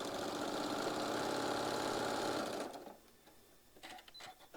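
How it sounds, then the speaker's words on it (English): A sewing machine runs steadily while stitching a quilt block, a loud continuous mechanical whir for over two seconds that then stops, followed by faint handling clicks and rustles. "we're going to sew again about a ½ inch over"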